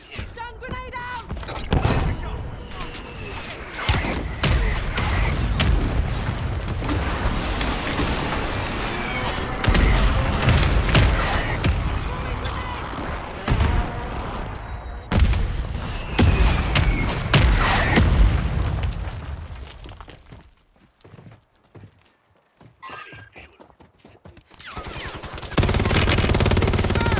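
In a Warzone multiplayer match, a thrown stun grenade goes off amid loud bursts of gunfire and heavy booms, followed by a muffled, near-silent stretch before the battle noise returns.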